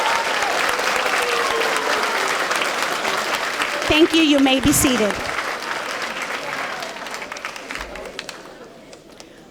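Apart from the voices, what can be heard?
audience applause for 8th grade students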